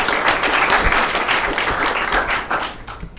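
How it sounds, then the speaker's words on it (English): An audience at a tech talk on NLP and recommender systems applauds the speakers just introduced, a dense, steady burst of clapping that fades toward the end. "please give a round of applause for them"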